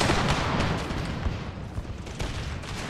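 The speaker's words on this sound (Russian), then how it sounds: "началась ну, стрельба, враг подошел" Battle gunfire in the strategy game Empire: Total War (PUA mod, Spanish Empire campaign): dense, continuous crackling volleys of musket fire with booming bursts, steady and loud throughout with no voices.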